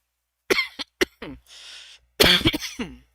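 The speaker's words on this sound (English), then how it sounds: "I'm going to have a cough here" Several sharp coughs close to the microphone, first in quick separate bursts, then a short hiss and a louder cluster of harsh coughs.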